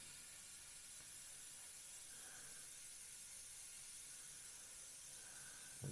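A Gaahleri GHAC 98D airbrush sprays paint during freehand camouflage painting, a faint, even hiss held steadily throughout with no talking.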